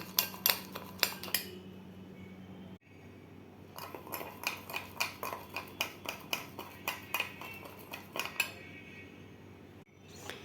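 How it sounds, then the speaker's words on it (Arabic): A spoon whips Nescafe instant coffee and sugar in a cup into a foam, giving a quick run of rhythmic metallic clinks against the cup with a short pause partway, close and fairly quiet. "نفضل نقلب فيها كده لغاية السكر ما يدوب تعمل عندي فوم"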